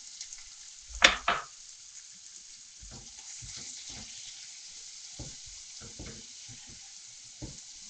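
Chopped onions go into hot oil in a pan for an egg puff filling, with a sharp burst of sizzle and clatter at first, then a soft steady frying hiss broken by occasional stirring scrapes.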